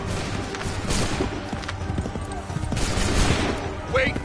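Musket volley gunfire in Assassin's Creed 3, a dense crackle of shots amid battlefield noise with horse hooves and shouted orders over it, loud throughout with a swell toward the end.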